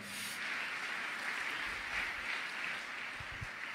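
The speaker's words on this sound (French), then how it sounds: "Acclamons ce groupe." An audience at a French-language evangelical church service applauds a ministry group with steady, fairly faint clapping that holds throughout, under a low room hum.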